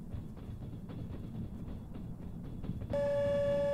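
Video game train on the Trans-Siberian Railway rumbling with rhythmic clatter, then a loud sustained horn blast sounding near the end, with no voices.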